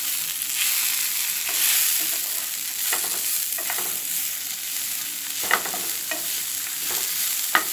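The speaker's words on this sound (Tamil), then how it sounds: "பீட்ரூட் நல்லா வதங்கிட்டுருக்கு." Grated beetroot with turmeric and asafoetida sautéing in a pan, a continuous close sizzle broken by repeated scraping stirs of a spatula, with no one talking.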